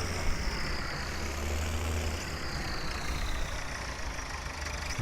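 Tractor engine idling in Farming Simulator 17, a steady low rumbling drone that holds evenly throughout with no talk over it.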